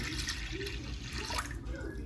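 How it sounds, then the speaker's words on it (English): Chicken stock is poured into an Instant Pot, a brief soft splashing and trickle of liquid close by. "in the Instant Pot, since no steam can escape, I use 2 cups of chicken stock. So pour that in."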